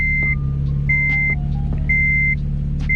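A Japanese train melody box in a car plays a repeating electronic beeping tune of short, pitched tones at a steady rhythm over a constant low engine idle.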